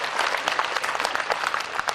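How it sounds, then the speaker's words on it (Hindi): An audience at a Hindi comedy poetry gathering (kavi sammelan) in Bhopal claps in a steady, moderately loud patter of applause lasting a couple of seconds, with no voices over it. "तालियां थोड़ी कमजोर हैं आपकी"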